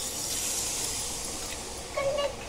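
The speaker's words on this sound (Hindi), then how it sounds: "हम अभी 1 गिलास तक पानी डालेंगे इसमें।" A glass of water poured into cooking masala for rajma amti, a steady hissing splash and sizzle with a brief louder bubbling burst near the end, close by.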